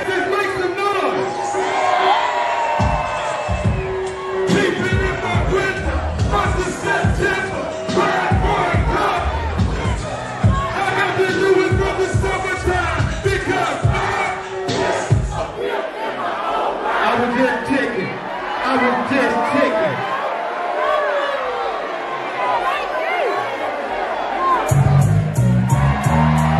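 A large concert crowd cheers, whoops and shouts loudly and continuously, with an MC's voice over the noise and a beat entering near the end.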